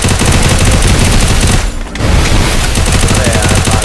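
Dense, loud automatic gunfire in the mobile battle royale game Free Fire, a continuous rapid stream of shots with a brief lull midway.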